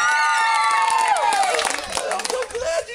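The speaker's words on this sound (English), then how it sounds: "big round of applause for Mrs. Roberts!" A crowd at a magic show claps and cheers near and loud, with high voices and whoops mixed in, briefly swelling before trailing off.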